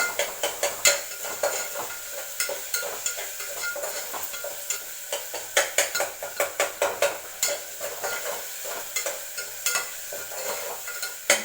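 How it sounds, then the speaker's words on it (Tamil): Tomatoes being sautéed for vada curry kurma, a soft sizzle under repeated rhythmic spoon scrapes and taps against the pan, close and fairly quiet. "நல்லா வதக்கிட்டு தக்காளி கொஞ்சம் குழையுங்க."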